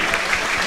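Brief burst of football crowd applause at Ayr United versus Queens Park for substituted player Logan Chalmers, a dense even patter of distant clapping with no clear voices.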